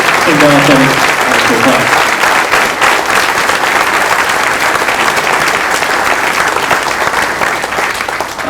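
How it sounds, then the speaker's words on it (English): Loud, steady applause from a banquet audience honoring a school athletic hall of fame class, filling the room without a break for several seconds, with a few voices calling out over the clapping at the start. "round of applause for our playing up team"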